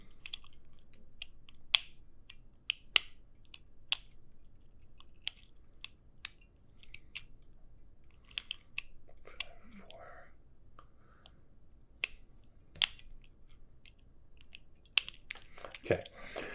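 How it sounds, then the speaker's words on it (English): Master Lock 410 LOTO lockout padlock with a dead core being opened, a series of small, sharp metallic clicks and taps spread out and close by, with soft whispery handling noise between them. "I'm just gonna open this real quick"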